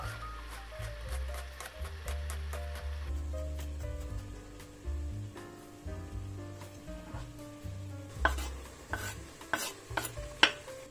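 Onions softening in a pan on moderate heat for goulash, with chopped garlic added: steady gentle sizzle under repeated scraping and stirring strokes, with a louder burst of clattering stirring near the end.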